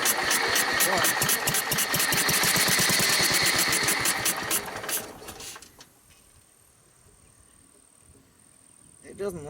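A sawmill engine running roughly while its fuel line is worked on, loud and steady with rapid firing pulses for about five seconds before it dies away to near silence, then a short noise near the end.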